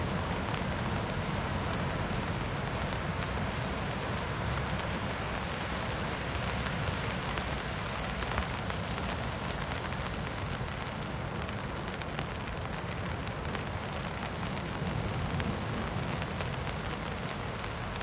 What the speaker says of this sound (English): Rain on the umbrella is a lovely sound